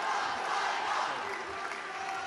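Indian fans cheering for Saina Nehwal at a World Superseries Finals badminton match, a dense, distant crowd roar that holds steady without breaks.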